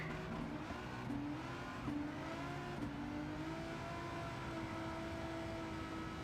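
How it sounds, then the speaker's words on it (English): A Renault Avantime's engine revs continuously with rising and falling pitch as its tires spin under heavy throttle in Gran Turismo, steady and loud without speech. "it's definitely wheel spinning now"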